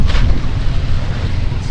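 Strong wind buffeting the microphone with a broad rushing roar, steady and close, from wind and rain at sea in stormy weather over the Pacific.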